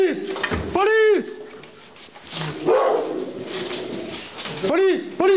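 A dog barks in several loud, harsh bursts during a police raid in Valence, France, close by, while voices shout over and between the barks.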